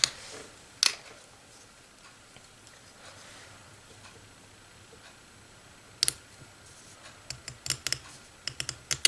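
Small snips cutting embroidery thread, heard as sharp, quiet clicks, scattered singly at first and then in a quick cluster near the end.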